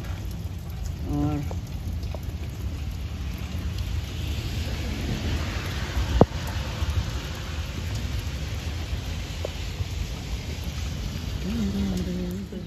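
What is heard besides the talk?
heavy rain outdoors with thunder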